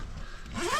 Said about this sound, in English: I should zip myself up in